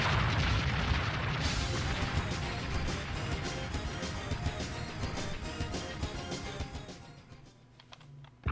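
Boss explosion effect in the Sega Saturn shoot-'em-up Dezaemon 2, a dense, continuous rumbling barrage of booms and crackling bursts that stays loud for about seven seconds before thinning out at the end.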